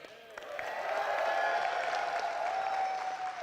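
A large live audience of over 350 people at an esports awards show in Arlington applauds and cheers in a steady, loud, sustained wash of clapping and voices.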